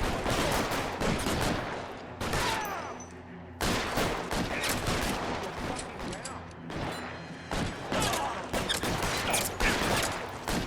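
Rapid bursts of L.A. Noire gunfire, including a machine gun, crackle and pop in clusters, broken by short pauses, with a voice talking over the shooting.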